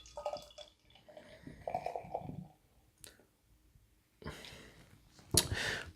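A New England style double dry hopped IPA poured into a glass, with soft gurgling and splashing in separate bursts, some quiet clinks, and a louder fizzing pour near the end, close by.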